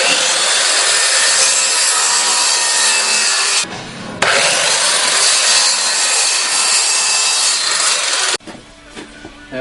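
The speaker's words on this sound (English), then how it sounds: "I'm going to be sanding the pieces, all of them." Wooden pieces for a pass box get sanded in two long, loud, continuous rasping passes, each several seconds long, with short pauses between and nobody talking.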